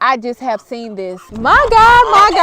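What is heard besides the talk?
No distinct noise like a dog, phone or traffic.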